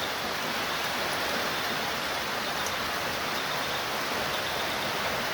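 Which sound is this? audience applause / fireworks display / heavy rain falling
heavy rain falling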